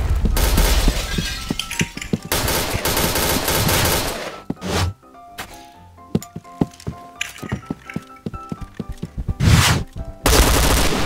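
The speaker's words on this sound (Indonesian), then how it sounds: "Hey, itu siapa yang lempar, bom ini?" In the video game Point Blank, a bomb goes off with loud, broadband blasts and shattering debris, followed by scattered sharp gunshots and another heavy burst near the end.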